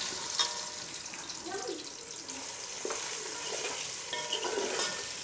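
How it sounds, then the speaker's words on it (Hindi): Boiled potatoes fry in hot oil for potato biryani, a steady low sizzle running throughout with faint scrapes and stirring clinks scattered over it. "अब मैं इसके अंदर ये सारे आलू जो है वो इसके अंदर डाल के फ्राई कर लूँगी"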